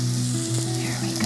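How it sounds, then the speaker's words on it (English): Sweet onion half rings sauté in olive oil with a loud, close, continuous sizzle, while a steady low hum sounds beneath it. "while those are getting soft and a little more mild from this little saute"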